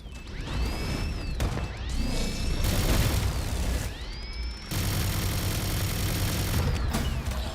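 A heavy gun in a video game whirring while reloading: rising mechanical whine sweeps repeating several times over dense, loud rumbling and gunfire-like noise.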